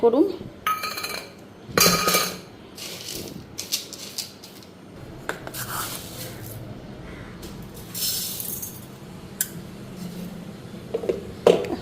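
Mixed matar dal and mung dal being poured into a container, heard as a run of close clinks and knocks of dishes and pots with gentle rattling between, plus a few louder clatters.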